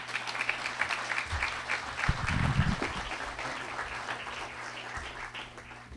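An audience welcomes a speaker with sustained applause, many hands clapping in a dense, steady patter that swells in the middle and then gradually thins out.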